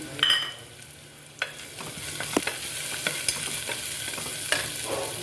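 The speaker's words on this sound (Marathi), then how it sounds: "तुपामध्ये कांदा आपला छान करपून झालेला आहे त्याच्यामध्ये आपल्याला पाच फोडणी टाकून घ्यायचे" Panch phoron spices are added to ghee with browned onion and green chilli, and they crackle and sizzle in short bursts. The frying runs under a low steady hiss, with light stirring clicks throughout.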